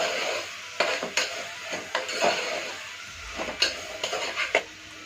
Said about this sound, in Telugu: ఇవన్నీ కూడా బాగా పట్టేటట్లు వేయించుకోండి